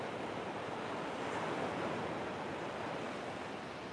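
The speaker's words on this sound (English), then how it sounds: "it's breaking really heavy right on the shore break" Heavy waves breaking on the shore at Fingal Head, a loud, dense, steady roar of surf with wind noise and no voices.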